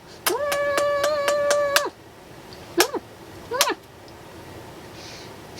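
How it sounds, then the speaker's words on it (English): A house cat meows three times: one long, drawn-out meow followed by two shorter ones, close and clear, against a quiet background with no talking. "We have a cat."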